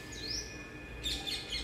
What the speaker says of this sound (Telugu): ఇవే నైవేద్యం తినే పిట్టలు